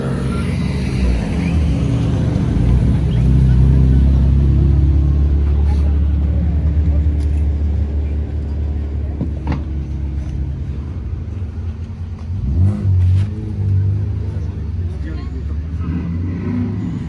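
A 2JZ turbo drift car's engine rumbles loud and steady with low harmonic drone, with a few sharper rev surges late on, while people talk over it.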